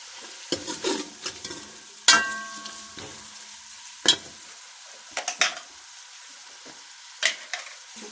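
Cumin fries in a pan for a mutton and pea curry, its steady sizzle broken by several sharp metallic clinks and scrapes of a stirring spoon against the pan, close up and without speech.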